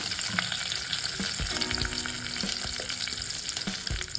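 Curry leaves, cumin seeds and asafoetida crackle and sizzle in hot oil for a Kolhapuri misal, a steady close frying hiss with small pops and spatters throughout, no talking.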